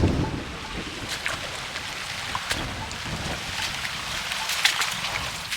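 Water of the Ghataprabha river near its origin at Chaukul rushes and splashes steadily and close by, a broad continuous wash with irregular splashy bursts and no talking.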